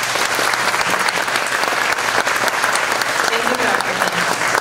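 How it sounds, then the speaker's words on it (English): Dense, loud applause from a pageant audience at the 2020 Miss South Central Rock River Valley Competition, steady and continuous throughout, filling the hall. "So can we give a round of applause to Shanita?"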